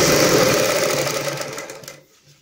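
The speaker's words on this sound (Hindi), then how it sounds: "यहाँ पे सिलाई लगाएंगे बिल्कुल धागे के साथ" Sewing machine stitching cord piping onto a kameez: a close, loud, fast mechanical whir that runs steadily for two seconds before stopping abruptly, leaving quiet.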